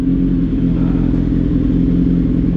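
Kawasaki Z900 motorcycle with a 950 cc engine, running loud and close with a steady, throaty low rumble and slight rev fluctuation throughout, with no voices.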